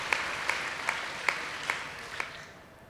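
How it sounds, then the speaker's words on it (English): Audience applause at a hospital leadership event honoring Rebecca, a steady broad wash of many hands clapping with a few sharper claps standing out, fading gradually toward the end. "So a round of applause for Rebecca."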